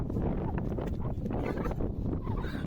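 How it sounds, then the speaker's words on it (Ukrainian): Steady, heavy wind buffeting the microphone outdoors on a motorcycle trip through Europe, a continuous low roar with gusty rustling throughout. "Вітер тут, до речі, сильний."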